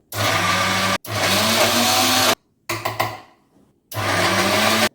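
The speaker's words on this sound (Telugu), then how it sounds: "పెసరపప్పు మిక్సీలో వేసుకొని మెత్తగా గ్రైండ్ చేసుకోవాలి" A kitchen mixer grinder whirs loudly as it grinds soaked moong dal into a smooth batter, running in four pulsed bursts separated by brief pauses, with a whining motor tone.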